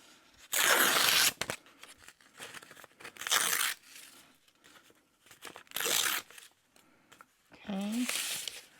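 Paper prints being torn for junk journal pieces produce several loud, close rips in separate bursts, with quiet pauses and soft talk between them.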